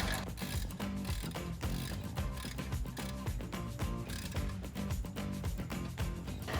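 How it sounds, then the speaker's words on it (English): A 3/8-inch drive ratchet tightens the top mounting point of a red MGP caliper cover on a 2011-2021 Dodge Challenger, clicking in dense, steady rapid bursts throughout, close and fairly loud with no talk. "grab that 3/8 drive and tighten down the top one as well."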